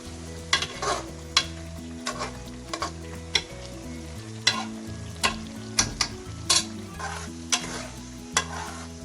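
Mutton or goat meat sizzles and fries with spice paste in a hot pan while a utensil scrapes and stirs in repeated sharp strokes.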